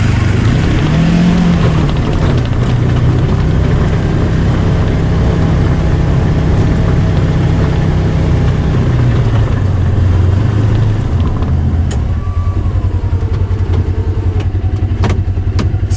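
A Kubota Sidekick 850 UTV in four-wheel drive pushes snow with a plow, its engine droning loudly and continuously close by, the pitch rising and dipping with the load.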